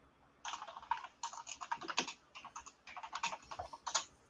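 Fingers type rapidly on a computer keyboard during an online group music chat, giving quiet, irregular bursts of clicking keys with short pauses and no talk over them.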